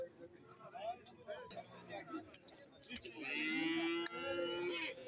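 Water buffalo calves moo and bellow at a busy cattle market, with a long, loud call rising near the end over a constant hubbub of voices and crowd noise.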